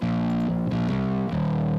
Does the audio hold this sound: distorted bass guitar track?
yes